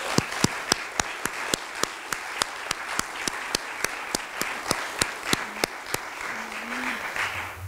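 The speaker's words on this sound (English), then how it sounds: "please join me again in one last round of applause and thanking them for their messages" An audience applauds two artists at a Christmas crèche exhibit in Palo Alto, with one close clapper's sharp, evenly spaced claps standing out over a steady wash of clapping from the room.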